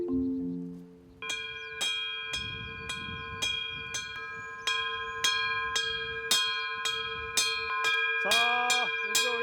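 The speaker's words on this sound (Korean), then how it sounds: "난데없는 종소리가 지리산을 깨웁니다." A bell rings out repeatedly on Jirisan mountain, roughly once every half second, its sustained metallic tones overlapping. Outdoors near a mountain spring, the strikes continue steadily before a brief flurry near the end.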